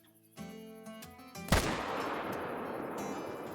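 A single loud M1 rifle shot fired at a large animal in the hunting game Call of the Wild, a sharp crack about midway followed by a long rolling echo, after quieter in-game ambience and music.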